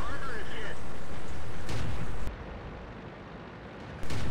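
Tank cannon fire in a World of Tanks-style game, heavy booming blasts over a constant loud rumble, with a sharp muffled drop-off midway before the noise returns.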